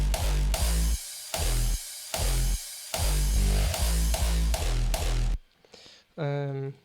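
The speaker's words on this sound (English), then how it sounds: "So you have a crash, a reverse crash, so you sweep into the next one" Thumping kick drums drive a hardstyle beat while reversed crash cymbal swells rise and rush into each hit, then the music drops out briefly.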